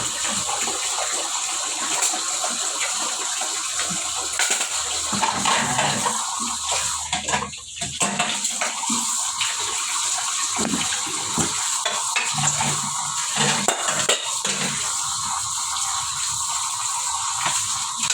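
Steady running water from a kitchen tap splashes continuously for the whole stretch while cooking pots are washed, with faint clinks of pots being handled underneath; no one speaks.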